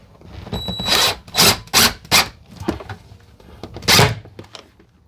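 Stainless steel screws being driven into wood with a power driver inside a box van build, several short whirring bursts separated by brief pauses, close and fairly loud with no talking.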